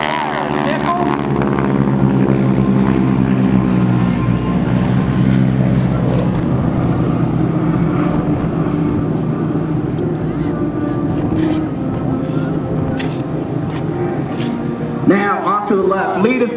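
Geico Skytypers vintage propeller planes fly in formation at an air show at Langley AFB, a loud, sustained droning engine roar with a wavering pitch, heard under a commentator's voice over the public address.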